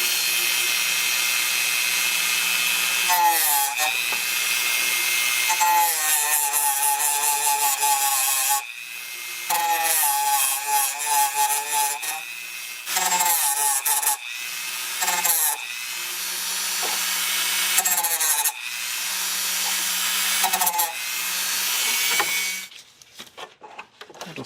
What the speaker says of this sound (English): So I'm going to try the flap disc first. I'm going to be very careful doing it on a low speed first.